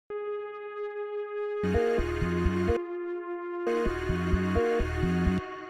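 A sustained synth tone hums alone, then low plucked synth notes join in two loud rhythmic phrases.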